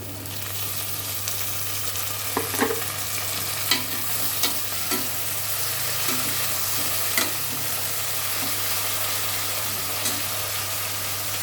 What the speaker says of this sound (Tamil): வதக்கிக்குவோம் நல்லா அது ப்ரௌன் கலராக ஆகட்டும் வெங்காயம்